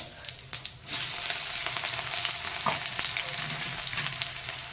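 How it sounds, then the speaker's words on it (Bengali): Dried red chili, cumin and chopped garlic are tempered in hot oil, bursting into a loud, continuous crackling sizzle after a few quieter pops at the start, with sharp spits scattered throughout. "এই তেল গরম হয়ে গেছে, আমি শুকনো লঙ্কা আর এই জিরে আর রসুন কুচিটা ফোড়ন দেবো"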